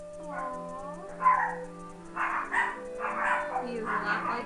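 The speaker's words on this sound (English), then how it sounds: "his mother, who is barking in the background" A Pomeranian barks in short bursts somewhere in the background while someone speaks in a high, cooing voice close by.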